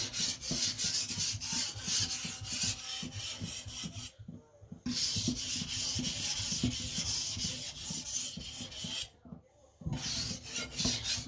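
A knife edge scrapes steadily across a coarse 300-grit whetstone during burr removal, close and continuous rasping strokes with two short pauses between passes, no talking.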